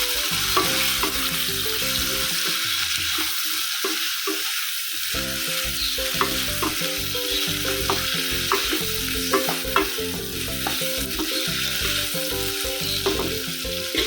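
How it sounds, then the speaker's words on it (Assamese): Drumstick curry with red chili powder being stirred in a frying pan, a steady sizzle under repeated scraping and clattering strokes of the spoon. "গোটেইখিনি ভালকৈ লৰাই দিছোঁ"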